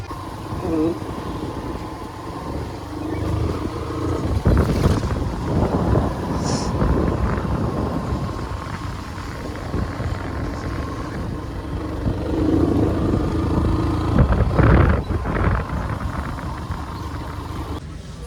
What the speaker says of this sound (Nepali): बाइक झिकेर स्टार्ट गर्नु पर्यो